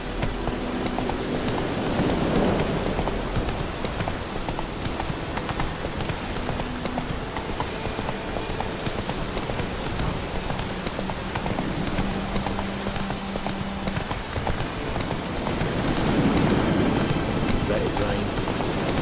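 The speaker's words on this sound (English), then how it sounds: "Let it rain." Rain falls in The Witcher 3 as a dense, steady hiss that fills the whole stretch, with hoofbeats of a horse mixed into it and a faint voice now and then.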